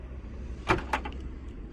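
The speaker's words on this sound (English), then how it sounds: "I will open up the boot and show you the boot space, as well as any spare tires." The boot of a 2022 Kia Cerato Sport opens with a short mechanical click and latch release, followed by a softer second clunk, heard nearby against a quiet background.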